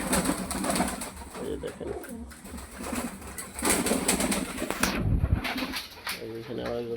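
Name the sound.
pigeons cooing, black pigeon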